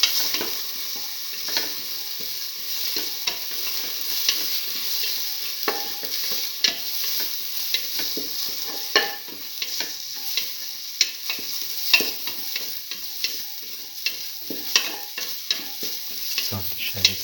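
Shallots and fennel seeds sauté in a pan as a bright frying hiss runs under frequent sharp scrapes and taps of a stirring spoon, close and fairly loud, with no speech.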